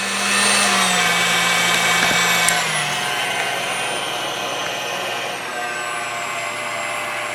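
A KitchenAid stand mixer running on low speed after being regreased gives a steady, slightly rough motor whine with a gear hum. It is close and continuous, easing a little in pitch partway through, with no voices.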